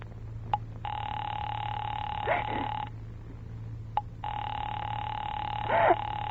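A telephone earpiece rings twice in long, steady electronic bursts, each preceded by a short click, over a low hum, as a radio-drama effect after a number is dialed direct.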